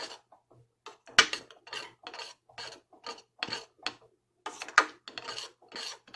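A spoon scraping and rasping against a pot while stirring Jamaican cornmeal porridge with milk and coconut, close and distinct, in irregular repeated strokes with short pauses between them.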